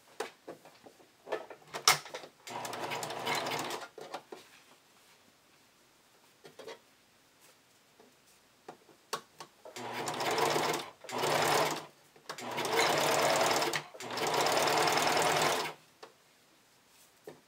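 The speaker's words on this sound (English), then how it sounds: "Turn it in once, turn it in again, and then we twin stitch along that edge." A sewing machine twin-stitches along the twice-turned elastic edge of a bikini top strap, running in several short, steady whirring bursts separated by quiet pauses and small handling clicks, close and alone.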